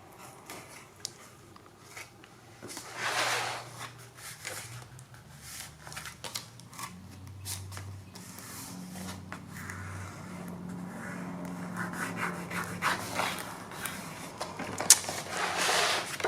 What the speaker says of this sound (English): So I'll just do a quick flip of how the pages have ended up